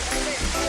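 Tancak Tulis waterfall on the slope of Mount Argopuro, a steady close roar of rushing water filling a brief moment, with a faint voice murmuring underneath.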